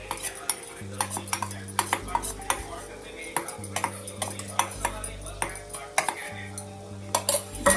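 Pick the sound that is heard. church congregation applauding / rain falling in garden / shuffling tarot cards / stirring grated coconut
stirring grated coconut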